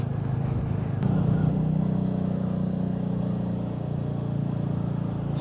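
A Royal Enfield Meteor 350 single-cylinder motorcycle hums along steadily under a rider at cruising speed, with a continuous low engine drone and a light road and wind wash and no talking.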